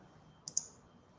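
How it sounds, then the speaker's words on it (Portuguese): Two quick, quiet computer mouse clicks, close together like a double-click, come while working in SAP Business One software over faint room hiss. "Vou clicar aqui em adicionar."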